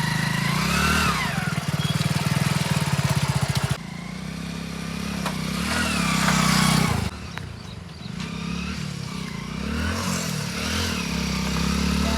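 A motorcycle engine runs throughout, with a rapid pulsing idle at first, then a smoother drone rising into a revving surge before it drops back to a lower, uneven run, fairly close and loud.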